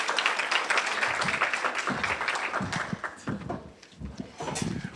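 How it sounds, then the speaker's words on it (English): Audience applause for a sheriff being welcomed on stage at a civic club event on law enforcement and mental health, dense clapping that thins out and fades toward the end, with voices mixed in. "Please give him a round of applause as he comes forth."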